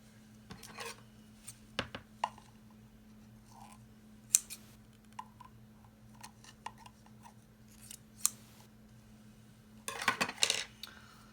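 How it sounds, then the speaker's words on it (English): Scissors snip through ribbon during a DIY skull jar craft, a scattering of small sharp cuts and rustles spread across the clip, with a denser burst of snipping and handling near the end over a steady low hum. "If that happens and your ribbon just like gets like this, you could just cut it off."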